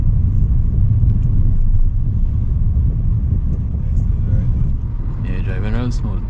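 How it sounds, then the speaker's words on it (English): A 2024 Suzuki Vitara Hybrid is heard from inside the cabin while being driven and shifted with the paddle shifters, giving a steady low engine and road rumble, and a voice rises over it near the end. "this is me just driving and using the paddle shifters."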